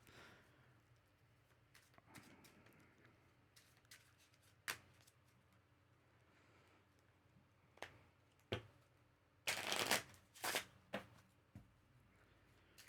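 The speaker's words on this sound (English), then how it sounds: "those weren't the best shuffles in the world" Low-quality playing cards being shuffled by hand, quiet riffles and taps building to a couple of louder bursts of ruffling cards near the end.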